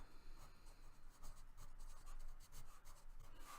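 Pen or pencil writing a knitting pattern note on paper, a close, soft scratching made of short rhythmic strokes over a few seconds, with no voices.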